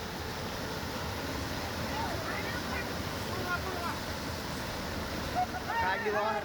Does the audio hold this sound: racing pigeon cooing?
no